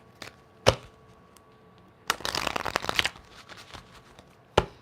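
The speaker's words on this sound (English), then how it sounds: "let's get a quick shuffle on these real quick" A deck of tarot cards is shuffled up close: a few sharp taps, then a dense riffling burst for about a second, and a final tap.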